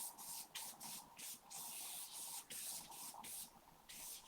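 Hairspray is sprayed over a charcoal drawing in a series of short, close hissing bursts, about a dozen quick puffs with brief gaps between them, quiet overall.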